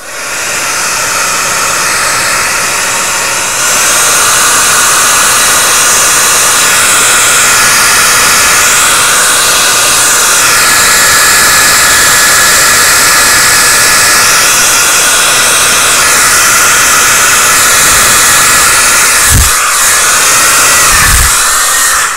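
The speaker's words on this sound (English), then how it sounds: "You notice that I love hair dryers" A hair dryer blasting steadily to dry paint on rusted metal, a loud close continuous roaring hiss that holds for the whole stretch, with two brief low thumps near the end.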